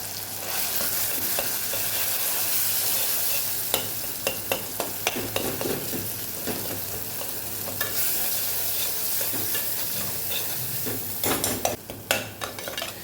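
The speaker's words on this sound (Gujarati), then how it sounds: "લસણવાળી ચટણી સરસ મિક્સ થઈ જાય અને વ્યવસ્થિત સતળાઈ જાય ત્યાં સુધી આપણે મસાલાને સાતળવાનું।" Garlic chutney and spices sizzle steadily in a hot pan, with a spoon stirring and scraping now and then, clinking against the metal in sharper bursts toward the end.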